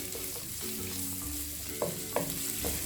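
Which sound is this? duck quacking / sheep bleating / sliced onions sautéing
sliced onions sautéing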